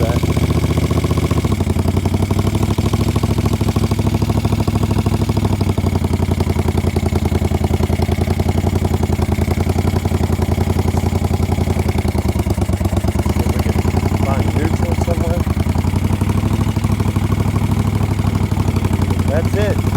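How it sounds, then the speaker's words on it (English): A 1975 Moto Guzzi cafe racer idles up close with a loud, steady, slightly fast throbbing engine note that runs throughout, and someone talks over it. "I gotta turn the idle down a little bit, I believe, because it wants to go a little bit faster."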